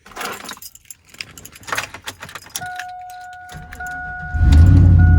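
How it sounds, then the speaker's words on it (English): A 5-speed Chevrolet Silverado with a 4.8 engine and aftermarket exhaust, heard after jangling keys and a few faint chimes, fires up at the end into a loud, deep, steady exhaust rumble close by. "That exhaust sounds beautiful."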